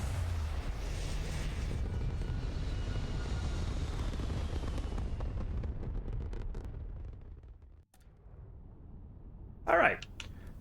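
A Star Wars-style starship lifts off in Starfield, a heavy roaring engine rumble that builds and then fades away over several seconds, followed by a short sharp electronic burst near the end.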